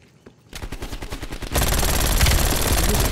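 Rapid automatic gunfire from a gun in Call of Duty: Black Ops Cold War, a short burst swelling into a loud, dense sustained stream of shots with no talk.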